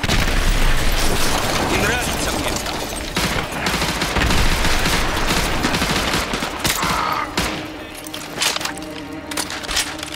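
Dense, continuous gunfire and heavy booming explosions from the Call of Duty: Modern Warfare 2 Remastered Contingency mission rumble loudly throughout, with rapid automatic bursts and voices speaking over the battle.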